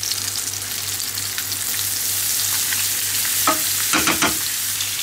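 Cod fillet frying in a pan with olive oil and butter, a steady close sizzle running throughout, with a few louder spatters and scrapes near the end.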